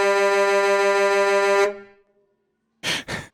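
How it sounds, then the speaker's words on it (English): An American Truck Simulator truck air horn with a modded sound pack blares one long, loud, steady blast that cuts off, followed after a pause by two short bursts of noise. "We have an air horn."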